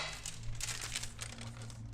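Paper lid being laid over a pot of boiling food before it goes into the oven, a soft crinkling and rustle of paper lasting about two seconds, close and fairly quiet, with no talking.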